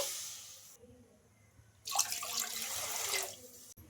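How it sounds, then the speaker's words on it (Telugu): A short run of running water, then a louder rush of two cups of water pouring into a kadai for over a second before it cuts off abruptly. "అందులోకి రెండు కప్పుల వాటర్ అయితే వేసుకోవాలి"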